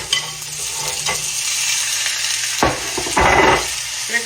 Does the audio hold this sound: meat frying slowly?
yes